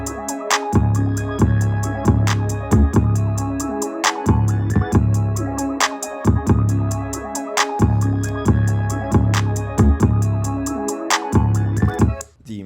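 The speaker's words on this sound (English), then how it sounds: "So for these little double notes, it makes for a cool stop-start effect." An 808 bass pattern plays deep double notes in a stop-start rhythm under a steady hi-hat and drum beat, loud and continuous with no talking.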